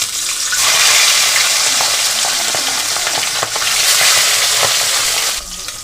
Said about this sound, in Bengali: এবার আমি মাছের মাথাগুলোকে দিয়ে ভেজে নেব।